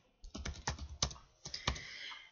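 Steady typing on a computer keyboard while entering a name into dental office software: a quick run of clicky keystrokes, a brief pause, then a few more, close and quiet with no talking.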